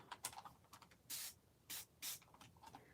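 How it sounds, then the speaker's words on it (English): Short bursts of spray hiss out from an aerosol can, three or four quick sprays amid faint clicks and rustling. "Let's spray it now."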